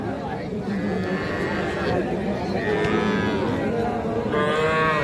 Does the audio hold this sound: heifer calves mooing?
yes